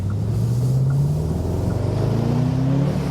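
A Bentley Continental GTC convertible's engine hums steadily from inside the cabin, its pitch rising gently as the car eases into light acceleration, with road rumble underneath.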